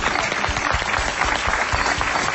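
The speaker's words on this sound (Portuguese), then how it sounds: "um aplauso para João Esgalhado" Studio audience applause welcoming guest João Esgalhado on a Portuguese television show, continuous close, loud clapping throughout with no voices.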